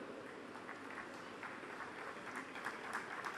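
Steady crowd applause at the IIM Kozhikode convocation ceremony, a dense wash of many hands clapping at moderate, even volume with a few sharper claps standing out near the end.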